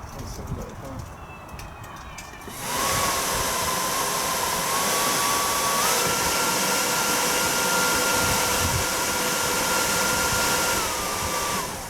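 A Mk1 Renault Clio heater fan motor, under repair, kicks in after about three seconds and runs loudly and steadily with a whirring whine that shifts pitch slightly partway through, after faint background sounds.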